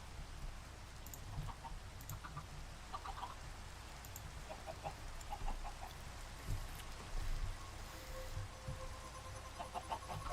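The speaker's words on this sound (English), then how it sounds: "You chickens better not be doing anything weird." Chickens clucking in a video game, quiet scattered clucks and short calls over a soft rain-like background hiss.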